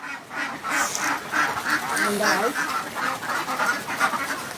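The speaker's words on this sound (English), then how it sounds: "That's one flock of ducks." A flock of ducks quacks repeatedly in an outdoor farm setting, the calls close and loud, overlapping in a busy, continuous chorus.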